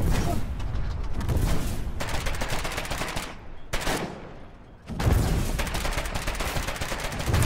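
Sustained gunfire in the video game Foxhole, rapid rifle and machine-gun shots aimed at a tank, dense and loud throughout with brief lulls near the middle before the shooting resumes.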